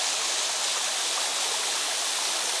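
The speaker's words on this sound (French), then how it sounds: "On a cette superbe cascade qui est là." A waterfall at Pierrefontaine roars in a steady, loud, unbroken rush of falling water, close by and with no voices.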